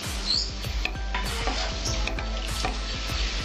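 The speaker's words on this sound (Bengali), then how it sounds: "আমার তেলটা গরম হয়েছে, আমি এবার দেব গরম মশলাটা দিয়ে দেবো ফোড়নে।" Whole garam masala dropped into hot white oil crackles and sizzles close up, with dense rapid pops and spits over a steady frying hiss, joined by light clinks of a utensil against the pan.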